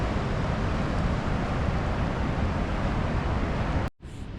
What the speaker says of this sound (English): You can hear how loud this waterfall is, and the water is going super fast.